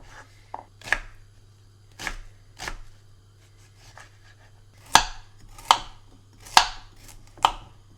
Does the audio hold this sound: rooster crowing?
no